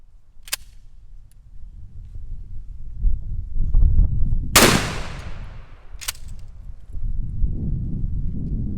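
A 12 gauge shotgun firing cut shells at soda cans outdoors: two or three sharp, loud blasts spaced a second or so apart, one with a long ringing decay, over steady wind rumble.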